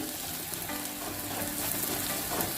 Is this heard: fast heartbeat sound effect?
no